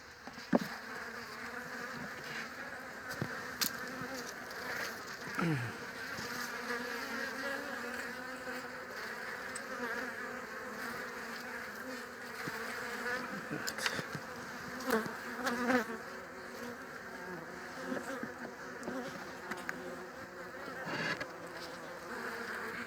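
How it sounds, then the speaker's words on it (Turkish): Honeybees buzz densely around an open hive as they chase off a bumblebee, a steady close drone with individual wingbeats flaring and passing by the microphone. "Şurada bombusu kovmaya çalışıyorlar."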